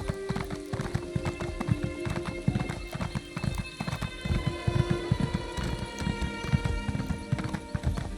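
Horse hooves gallop in a fast, steady clip-clop rhythm through an Elder Scrolls Online mount ride on Xbox Series X, close and continuous, with occasional whinnies and faint game music underneath.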